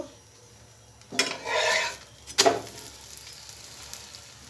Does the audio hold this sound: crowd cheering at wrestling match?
no